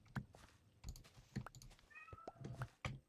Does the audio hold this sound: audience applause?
no